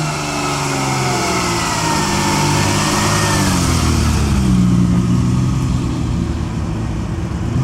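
A long-wheelbase Ferrari California engine revs steadily and loudly as the car pulls away at a concours d'elegance show, with a sustained, rising engine note and no voices.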